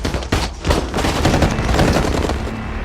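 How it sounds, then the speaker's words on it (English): A film gunfight, with dense overlapping gunfire and rapid shots crackling loudly and continuously for a few seconds, with no voices. "A fierce gunfight broke out."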